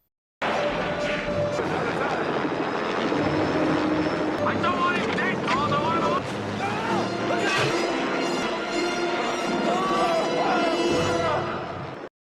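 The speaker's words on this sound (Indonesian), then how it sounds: "lemparan Rambo tersebut pun mengenai helikopter tersebut sehingga menimbulkan helikopter kehilangan keseimbangan" A helicopter from the film Rambo: First Blood drones loudly throughout, a dense rotor and engine roar mixed with crashing film sound effects and voices, running continuously for about twelve seconds.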